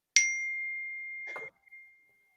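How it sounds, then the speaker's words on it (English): A single bright bell-like ding from a text message notification in headphones rings out and decays over about a second, then a brief softer chime follows. No one talks over it. "What was the bell? Yeah, that was a weird bell."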